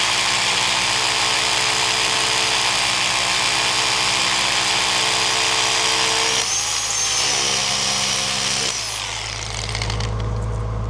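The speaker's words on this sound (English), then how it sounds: "That's gone through the rebar, just gone through the edge of it." A drill fitted with a four-way bit bores through rebar inside a concrete wall panel on a farm shed build, giving a loud, steady grinding hammer that stutters and shifts partway through before the motor winds down.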